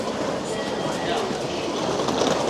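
A busy Tokyo Station train platform, with a dense, loud wash of crowd bustle, footsteps and rumbling station noise continuing without a break.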